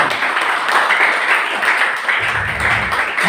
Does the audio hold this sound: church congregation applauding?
yes